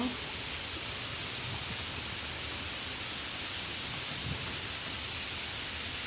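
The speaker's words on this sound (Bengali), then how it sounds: "আকাশে ঘন মেঘ, প্রচণ্ড বৃষ্টি নেমে এলো, চারিদিকে একদম মেঘে আচ্ছন্ন।" Heavy rain pouring steadily outdoors in a village under thick clouds, a dense, even hiss filling the whole stretch without pause, with no voices.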